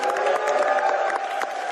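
An audience breaks into applause and cheering at the close of a political speech, a dense, steady roar of clapping and voices that holds at full strength for the whole stretch without letting up.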